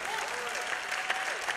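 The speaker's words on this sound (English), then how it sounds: "Somebody ought to clap their hands right there and give God praise." A church congregation claps its hands in steady, dense applause that fills the room, with voices mingling beneath the clapping.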